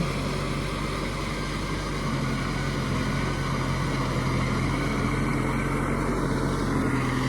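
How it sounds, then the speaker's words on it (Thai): A tractor with a rotary tiller churns a muddy rice paddy in a wide field, its engine drone steady and loud throughout, layered with a broadband rumble and no speech. "ันนี้พามาดูรถไถรถปั่นนะทุกคน"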